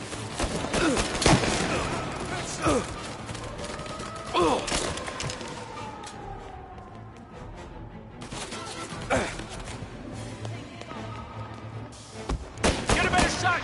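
Gunfire in the Mafia video game: several sharp, loud shots and short bursts spread irregularly across the stretch, with brief quieter gaps and occasional voices.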